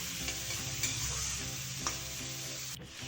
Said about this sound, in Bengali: আমি গাজর আর বিনটাকে একটু ভেজে নিব 1 মিনিট মতো